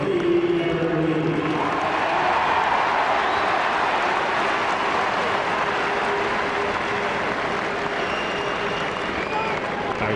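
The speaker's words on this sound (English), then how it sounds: "Applauds the effort." Spectators applaud at the 2007 National Football League Division 1 Gaelic football final between Donegal and Mayo, a steady wash of clapping from a large stadium crowd that holds evenly throughout, with a commentator talking over it.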